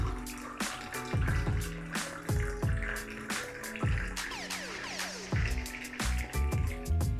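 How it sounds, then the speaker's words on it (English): Moroccan mint tea poured from a height into a glass, sounding as repeated splashing streams and drips that start and stop in bursts, close and fairly quiet, with no talk. "So pour it in and then do it from a height"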